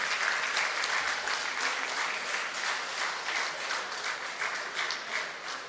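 Crowd applause, full and steady with individual claps audible in the wash, continuing throughout and tapering a little at the end.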